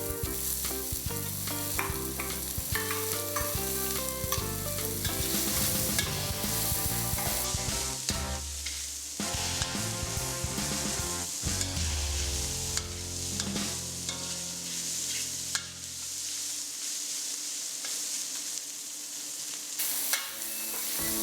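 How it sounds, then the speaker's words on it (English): Garlic, spring onions and sausages fry in hot oil, sizzling and crackling steadily with stirring clatter throughout. The sizzle quiets toward the end. "When the oil is hot, fry the garlic, the spring onions, and the sausages for about a minute or so."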